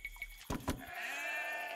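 Sheep bleating inside a multiplayer video game, two short wavering bleats near the middle of a brief clip, followed by steady game ambience and tones.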